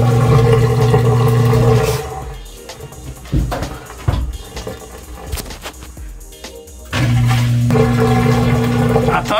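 A front-loading washing machine hums with a steady tonal pump drone as it drains water, stopping in the middle for a stretch of clatter and knocks before the loud pumping resumes.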